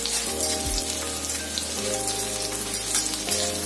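Garlic cloves and a two-inch piece of ginger sautéing in hot oil over medium heat for misal pav, a steady, dense sizzle with a constant low hum beneath, no voices.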